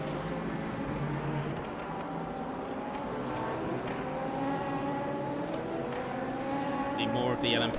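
LMP2 prototypes and GT3 race cars lap Daytona in a sim racing game, their engines a continuous droning roar of several cars together, steady and moderately loud throughout.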